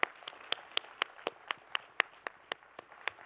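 At a technology and innovation panel event, hands clap in a steady, evenly spaced rhythm of about four sharp claps per second, moderately close, with no talk over them.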